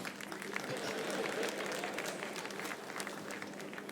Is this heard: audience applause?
yes